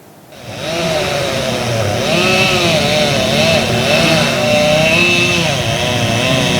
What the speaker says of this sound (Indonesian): Dengan menggunakan gergaji mesin, petugas suku dinas kehutanan memotong batang dan dahan pohon rangas yang tumbang